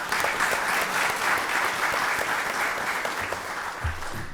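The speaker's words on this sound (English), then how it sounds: "Let's give both of them another round of applause." Sustained applause from an audience at a county board of commissioners voting session, a dense steady patter of many hands clapping at full volume throughout, with no voices rising above it.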